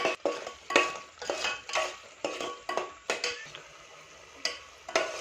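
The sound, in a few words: stirring chicken curry masala in a pan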